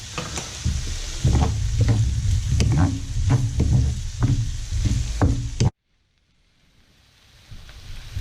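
Capers, olives and onions sauteing in a pan, a close steady sizzle with scattered knocks and stirring clatter, then a sudden cut to near silence before faint sound returns.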